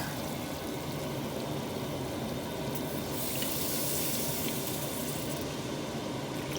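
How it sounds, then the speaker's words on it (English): Milk being poured into a butter and flour roux in a pan for mac and cheese: a continuous, even liquid pour with a soft gurgling stream, moderately close and steady, with no talking. "Now we're going to pour in our milk."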